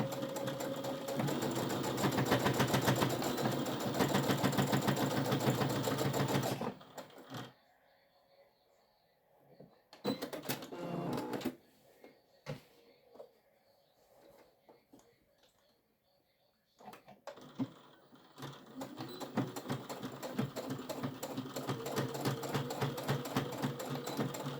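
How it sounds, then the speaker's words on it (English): A sewing machine stitching along the side of a fabric bag, a loud rapid mechanical whir for several seconds, then a pause filled with faint handling clicks and taps, before the steady stitching resumes and runs to the end. "we're going to flip the bag over, and we're going to sew the other side on the same way"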